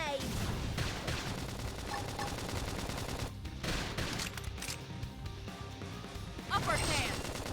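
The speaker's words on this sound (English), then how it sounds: "Flame grenade!" Game combat from Xenoblade Chronicles X with a flame grenade attack, a dense loud mix of blasts, crackling bursts and music-like layers running throughout, with a sharp rise near the end and battle voices mixed in.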